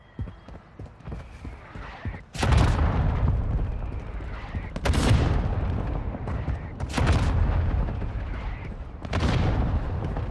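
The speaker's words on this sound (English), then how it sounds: "Mortar strike inbound now" Mortar strike explosions land in the mobile game Call of Duty Warzone Mobile, four heavy booming blasts spaced a couple of seconds apart, each a sudden loud burst trailing into rumbling debris.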